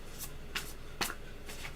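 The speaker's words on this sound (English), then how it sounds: "Oh, you shuffle now." A deck of playing cards is shuffled at a table, giving soft riffling bursts in an even rhythm, about four short ruffles and snaps that sit quietly against a low background hum.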